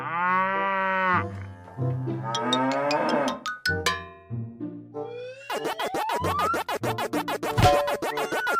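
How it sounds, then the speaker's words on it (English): Cartoon-style cow moos stand out in a children's game, with long, loud, drawn-out lowing calls at the start, then bright chimes and a cowbell-like jingle, followed by more moo-like calls alongside scratchy effects. "Cow."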